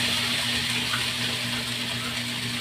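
Water runs steadily into a cooking pot for sinigang, a continuous close splashing fill with a low steady hum underneath and no talk.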